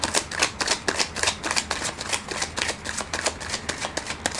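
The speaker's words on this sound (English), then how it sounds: "I'm going to do a bit more shuffle." Oracle cards are shuffled by hand at close range, a continuous run of crisp riffling flicks and slaps in quick uneven rhythm with no talking.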